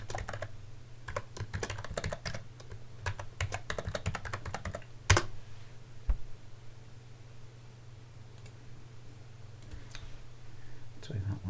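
Typing on a computer keyboard: rapid clusters of light key clicks close by, then a louder tap and a pause before a few more scattered keystrokes.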